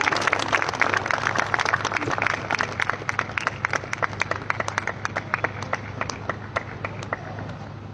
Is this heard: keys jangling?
no